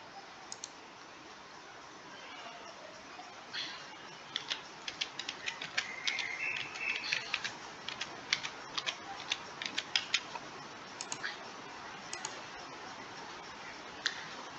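A password is typed on a keyboard, with sparse, faint key clicks that pick up into a quicker irregular patter midway, then thin out again in a quiet room.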